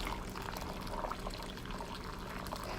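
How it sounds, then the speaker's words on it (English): Boiling hot water pours steadily into a bowl for blueberry Jello, a soft, even rushing trickle that stays faint and constant from start to finish. "The blueberry is going to take another 3 cups of boiling hot water, just like this."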